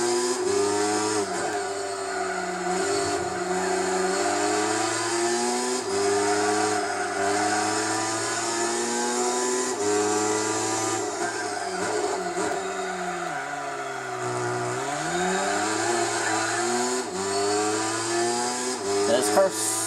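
Race car engine in Gran Turismo 4 during the Tsukuba 9 Hour endurance race, a Mitsubishi Lancer droning steadily with wavering pitch as it shifts and revs through corners, loud and continuous throughout.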